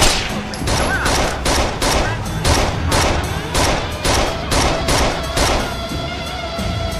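Rapid bursts of gunfire from the Rainbow Six Vegas 2 video game, a steady train of sharp shots and short volleys running loud and close for the whole stretch with no pauses.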